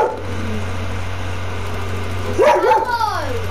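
A dog barks a couple of times close by in a house during a Fortnite gaming session, sharp yelps over a low engine-like game hum.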